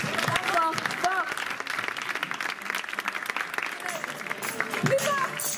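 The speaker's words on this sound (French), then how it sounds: "Je vous prie d'applaudir." An audience at an awards announcement claps loudly and continuously, a busy, close-sounding patter of many hands with voices talking and calling out over it throughout.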